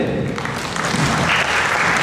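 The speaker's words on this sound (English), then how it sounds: "let me welcome with the amazing round of applause, Wael Harshal" An audience at a Toastmasters youth leadership program claps and cheers to welcome a comedian to the stage, a loud, dense burst of applause filling the room.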